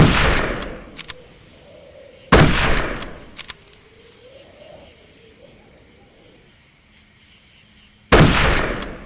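An old rifle firing in the video game Darkest Of Days: three sharp, loud gunshots spaced several seconds apart, each with a short ringing tail, over quiet ambience with faint in-game tones between.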